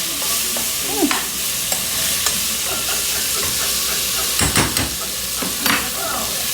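Beef browning in a pot for a fall beef stew, a steady close sizzle and hiss with scattered scraping stirs and a few louder clatters near the end, no talking.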